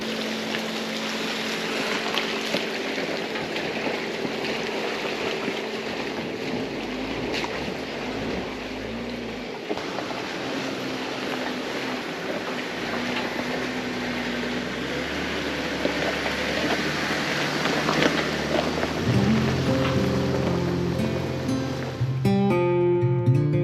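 Jeep driving across a stream on a West Virginia backroad, a continuous loud engine rumble with rushing water and splashing, steady for over twenty seconds with rising engine tones near the end.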